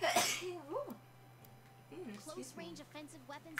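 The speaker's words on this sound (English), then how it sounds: "I didn't realize you sneezed." A single sharp sneeze bursts out at the start, then a voice keeps talking over quiet game audio with a steady low hum underneath.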